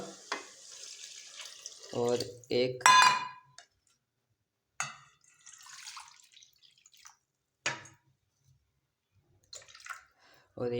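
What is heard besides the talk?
water being poured into a pot for pulao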